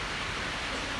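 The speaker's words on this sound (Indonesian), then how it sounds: "Ini suara hujan sebabnya." Rain falling steadily during a church sermon, a dense even hiss with no distinct drops, constant and moderately loud with no voices over it.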